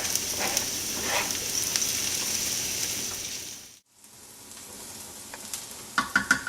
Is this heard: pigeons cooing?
no